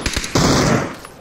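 Close, loud gunfire in PUBG: a couple of quick shots followed by a heavy sustained blast that fades out, with no talk over it.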